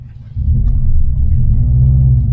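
A loud, deep Subaru STI engine rumble in sport mode swells up after a brief quieter moment and holds steady, heard from inside the car.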